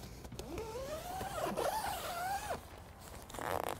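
A zipper runs along the U-shaped door of a Vango Avington 500 tent in one long, close, rasping pull lasting about two seconds, followed by a brief quieter zip tug near the end.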